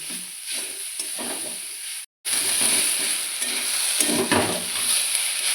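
Soaked large-grain sago is stirred in a frying pan, giving a soft sizzle and a scraping swirl close up. The sound runs steadily for several seconds, broken by one brief silent gap.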